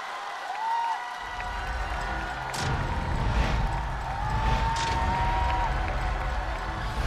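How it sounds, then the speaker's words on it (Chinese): Audience applause at a televised music stage show, a broad rolling wash of clapping and some cheering that swells after a host's announcement and carries steadily to the end. "掌声有请。"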